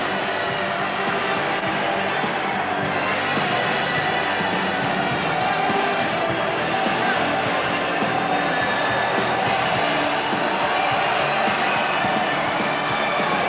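A dense boxing-arena crowd at a professional fight night roars and murmurs steadily throughout, a continuous wash of cheering and chatter with no clear breaks.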